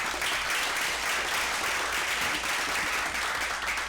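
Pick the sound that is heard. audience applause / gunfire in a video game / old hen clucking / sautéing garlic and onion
audience applause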